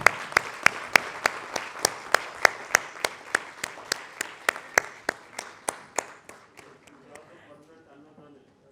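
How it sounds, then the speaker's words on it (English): Rhythmic, evenly spaced claps from an audience at a Women's Entrepreneurship Day event honouring Dr. Tejaswini Anantkumar, about twenty sharp beats in unison that slowly fade over several seconds, with faint voices underneath. "give a big round of applause for Dr. Tejaswini Anantkumar"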